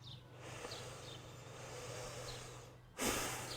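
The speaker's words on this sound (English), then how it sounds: "pay all your attention to the sound of the air that comes in and out" Slow, soft breathing with air drawn in and let out, quiet and close, followed by a louder, rushing exhale near the end.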